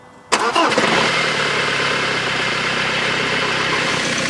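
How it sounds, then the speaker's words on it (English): A BMW engine starting after an intercooler hose repair: a short cranking burst, then the engine catches and settles into a steady idle, heard up close. "we should now be ready to fire this engine up"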